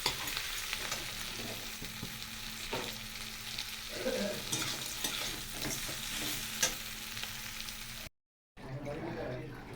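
Ginger, garlic, tomato, cumin, garam masala, green chilli and black pepper frying in oil, a continuous close sizzle with stirring scrapes, a soft murmur of voice in the background, then a sudden brief silence before sizzling resumes.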